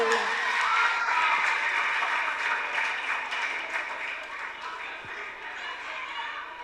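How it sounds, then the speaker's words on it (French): Audience applause at a televised school quiz match between two colleges, a broad sustained clapping that slowly tapers off, with talk over it and a raised voice at times. "On va mettre fin à cette soirée, à ce match, en applaudissant notre dernier bombardier, Géfrard, Maxime, Lucas, Paul."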